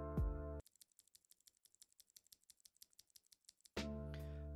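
Rapid clicky mechanical keyboard typing, a quick run of sharp, evenly spaced keystroke clicks heard close and alone between two brief bursts of louder sound.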